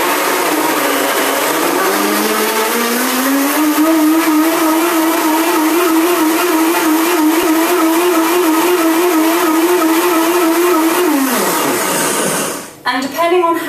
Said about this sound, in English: So we're now just going to blend this up till it's smooth and creamy.